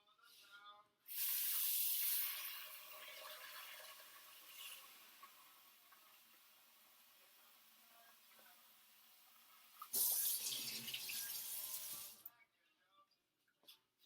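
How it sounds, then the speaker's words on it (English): Cold water gushes from a tap into a cooking pot holding chicken for about a second, runs quietly, then pours strongly again near the end; no talking. "placing the chicken into the pot and covering it with water, cold water"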